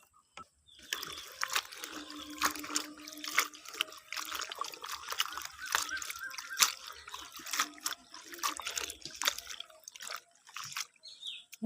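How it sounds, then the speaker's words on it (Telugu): Water is poured and trickles into a cooking pot of gongura sorrel leaves, with soft uneven splashing and dripping that stays faint and close throughout. "గోంగూరలో అయితే వాటర్ అయితే పోస్తున్నాను చూడండి ఫ్రెండ్స్"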